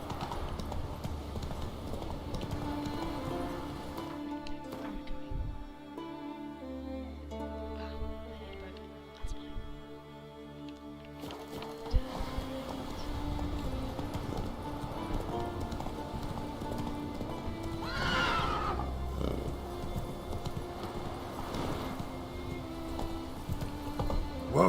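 Hooves of the horse Roach clopping in the Witcher 3 video game, a steady rhythmic trot under game music, with a brief whinny or snort partway through and light rain-like patter in the background.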